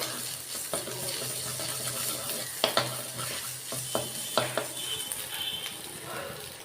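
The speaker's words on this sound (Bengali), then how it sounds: "আদাটাকে একটুখানি ভেজে নিচ্ছি ঘিয়ের মধ্যে।" Ginger sizzling in hot ghee in a pan, with a steady frying hiss and several sharp clinks of a spoon stirring against the metal, loud and close with no talking.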